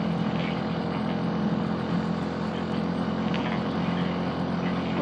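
A motorcycle engine labors steadily up a very steep road toward Tagaytay in third gear at part throttle, a continuous close droning rumble with wind noise and no pauses.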